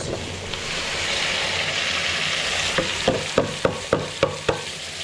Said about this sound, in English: At this point, add your meat.